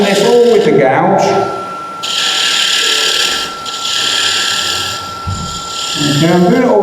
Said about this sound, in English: Now you notice I'm doing this all with the gouge.